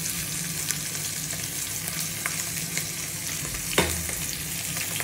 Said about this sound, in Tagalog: Tapos ito din po guys. Dalawa pang piniprito.